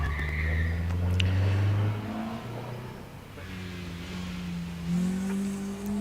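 A 3-litre Ford Anglia race car powers up a hillclimb course, its engine note rising and falling through gear changes with a brief tyre squeal, loud and close without speech.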